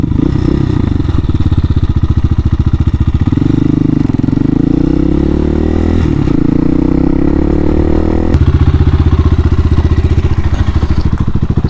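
A Hawk 250 motorcycle engine running loud and close while riding, a steady buzzing drone that rises in pitch through gear changes, with no talking.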